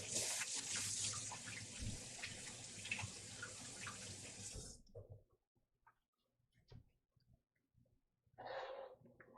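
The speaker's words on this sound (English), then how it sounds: "I'm gonna wash my hands." Tap water runs loudly into a sink while hands are washed, then cuts off at about the midpoint. Faint handling noises follow, and a short burst of water returns near the end.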